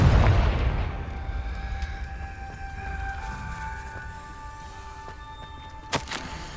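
In Hogwarts Legacy a Confringo fire spell explodes as a loud burst at the start, then fades into a ringing, humming tail, with a small sharp pop near the end.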